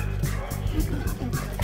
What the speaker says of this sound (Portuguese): Os cachorros, tem cachorrão!